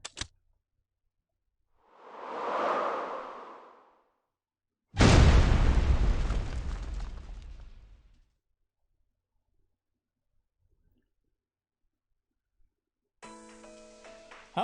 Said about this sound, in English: Millennium 60, a firework from the Millennium Science School.